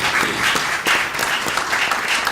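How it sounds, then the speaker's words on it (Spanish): An audience applauds for a panel at the first day of a conference, a dense, loud wash of clapping that carries steadily throughout. "yo quisiera pedirles un aplauso a todos los que estamos presentes por esta primera jornada"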